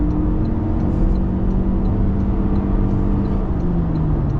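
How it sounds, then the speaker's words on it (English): A 2025 Toyota Camry SE accelerates on a highway, a steady mid-pitched engine hum with a slowly rising and falling tone over continuous road and tyre noise, heard from inside the cabin. "Now, definitely you could hear the acceleration there."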